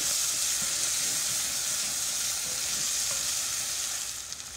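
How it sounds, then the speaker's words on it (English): Adobo seasoning is stirred into Haitian-style black beans in a pot, a dense steady sizzling hiss with soft stirring scrapes, close and even before easing off at the end, no talk. "I'm going to go ahead and add some adobo, like this. And then we're going to stir."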